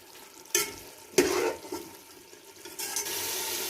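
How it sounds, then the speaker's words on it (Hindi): Water splashes into a cooking pot of rice, lentil and minced meat khichdi, a couple of loud gushing pours with sizzling, close and without talk. "अब हम डालने लगे इसमें पानी।"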